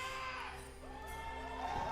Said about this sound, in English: Cheers for Bengi.